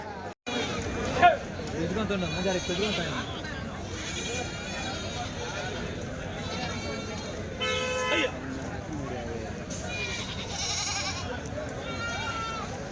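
Goats bleat repeatedly at the weekly livestock market in Kadiri, their wavering cries rising over steady crowd noise while people talk nearby.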